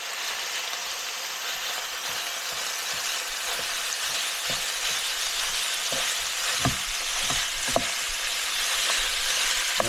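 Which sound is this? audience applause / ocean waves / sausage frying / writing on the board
sausage frying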